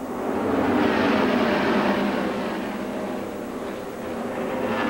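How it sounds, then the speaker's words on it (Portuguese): IndyCar race car engine at Charlotte Motor Speedway in 1999, a loud continuous roar that swells and dips slightly as the car runs at speed, heard from onboard with no talk over it. "Aí você sente a potência do motor de Bud Lazier."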